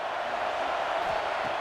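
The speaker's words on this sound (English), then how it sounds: "Listen to the crowd energy here in the early going." Stadium crowd in College Football 26 as a dense, steady roar of many voices, continuous and fairly loud, filling the whole moment.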